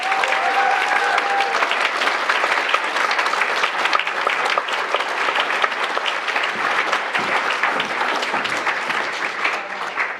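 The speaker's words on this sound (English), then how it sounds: "please give a big round of applause to Lieutenant Colonel Tim Zetterwall" An audience at an awards gala applauds, with dense, sustained clapping from a large crowd filling the room at steady volume for the whole stretch.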